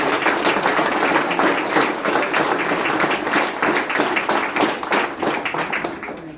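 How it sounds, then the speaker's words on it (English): An audience at a speedway awards ceremony claps for a stock car racing figure, a dense, loud and sustained round of applause with distinct hand claps throughout and no speech on top. "Give him a round of applause."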